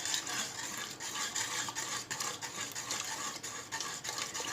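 Wheat starch paste for kurdai being stirred in a pot as it is poured in a little at a time, a steady scraping, swishing texture running close and continuous without pause, with no talking.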